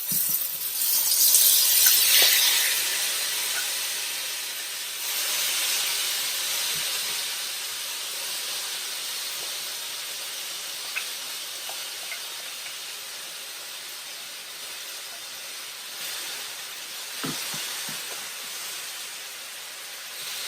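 A paneer wrap filling mixture cooks in olive oil in a pan, giving a steady broadband sizzle and hiss that swells briefly near the start, then settles into a continuous even fry with a few faint clinks, no talking.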